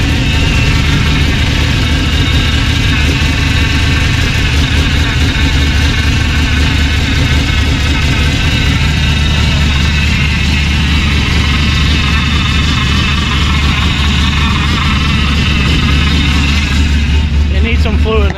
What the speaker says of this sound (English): Power steering's gonna make some noise so it gets the air out of it.